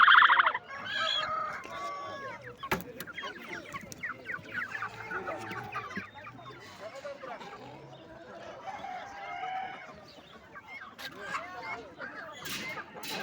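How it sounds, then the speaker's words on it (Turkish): Chickens cluck and chatter steadily throughout at a poultry market in Konya, with a rooster's call mixed in and occasional human voices in the background. "Horoz, iki tavuk bir horoz."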